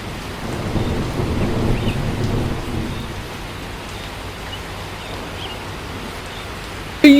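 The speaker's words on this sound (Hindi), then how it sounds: "ये तो बारिश शुरू हो गई।" Thunderstorm in a cartoon, with a deep rolling rumble of thunder and steady rain hiss, loudest in the first three seconds, then a constant wash of rain and wind, ending with a brief sharp knock.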